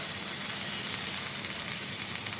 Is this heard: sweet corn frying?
yes